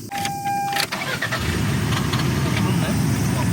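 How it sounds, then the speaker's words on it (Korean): The engine of a 1997 Toyota MR2 cranks briefly and catches, then settles into a steady, close idle that continues to the end. "시동부터 켜."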